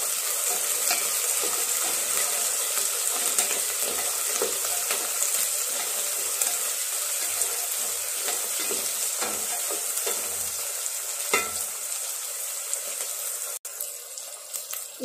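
Biryani ingredients with coriander and curry leaves sauté in a kadai, giving a loud, steady sizzle with frequent stirring scrapes throughout, ending in a sharp clack.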